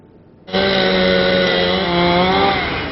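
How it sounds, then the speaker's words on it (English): A chainsaw cuts eucalyptus trees along a city street. It starts abruptly and then runs at a loud, steady high-revving whine that stays close and constant, with no talk. "The sound of chainsaws and cherry pickers on Coronado's E Avenue don't seem to be cutting through Daniel Stewart's resolve."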